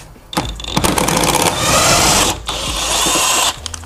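A pneumatic impact wrench hammers a bottom Torx bolt on a Mustang GT seatbelt mount, with two loud close bursts of rapid rattling separated by a brief pause and short clicks of the trigger at each end.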